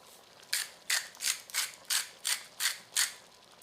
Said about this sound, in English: It's the only thing negative about using a grinder is it's really hard to measure how much salt and pepper you're really getting in here.